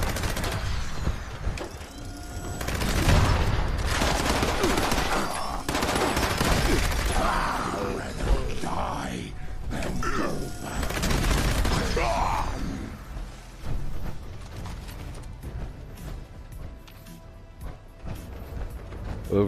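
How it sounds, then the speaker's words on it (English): A Gauss minigun firing in Fallout 76, long loud bursts of rapid shots with crashes and impacts, pausing and resuming, with a player's voice talking between volleys. "This is a really good Gauss minigun."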